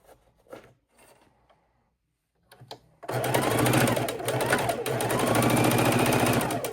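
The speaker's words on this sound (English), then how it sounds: "And we're chain stitching" A sewing machine runs steadily, chain stitching fabric jar openers, loud and continuous after a few faint handling clicks and a brief quiet pause.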